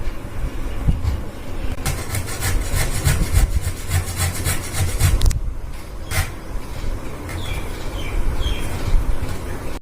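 Peeled mango pieces being rubbed for a sweet pickle give a continuous rough, scraping rasp, loud and close, with bursts of brisk strokes and short pauses between them.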